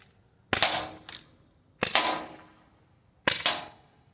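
Three sharp pops from a Byrna HD less-lethal pistol, each followed by a quick hiss and brief decay, evenly spaced and close, with no talking.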